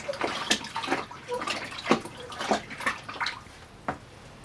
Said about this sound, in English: Stirring that water as well.